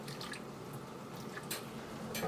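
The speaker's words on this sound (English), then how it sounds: "Then you want to add your water across the whole top" Water is poured across the top of a dessert mixture for raspberry, blueberry and pear cages, a faint, soft trickle with light splashy bursts.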